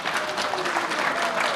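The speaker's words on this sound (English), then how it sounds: "let's give a round of applause and excitement" Audience at the Arizona State University FIRST LEGO League 2022 season kickoff applauds steadily, a dense wash of many hands clapping at close range, sustained and even throughout.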